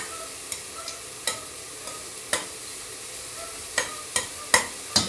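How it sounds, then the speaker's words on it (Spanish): Bacon sizzles in a frying pan with a steady, soft crackle, broken by occasional sharp scrapes and pops as it is stirred, close up and with no voices. "Vamos a ver que nuestro tocino no se nos queme mientras lo dejamos de restar"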